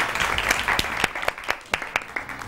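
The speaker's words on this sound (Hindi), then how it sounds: "तालियां तो जरा तालियां तो जोरदार हो" Studio audience clapping on the set of an Iftar transmission TV show, a dense patter that thins into scattered separate claps toward the end, fairly close and moderately loud.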